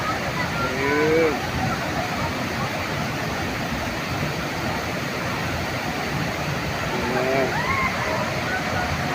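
Tinago Falls waterfall in the Philippines, a steady broadband roar of cascading water filling the scene throughout, with someone speaking briefly over it.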